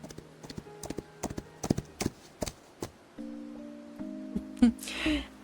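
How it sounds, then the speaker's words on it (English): Irregular clip-clop of horse hooves on a hard surface in the video game Love and Deepspace, fairly quiet, with a low steady tone and a soft whoosh near the end. "I hear the faint sound of hoofbeats and turn"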